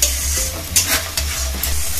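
Spice masala being stirred and sautéed in a pan for a vegetarian shahi paneer makes a loud, continuous sizzle, with a low rumble underneath and a few scraping strokes of the spoon breaking through.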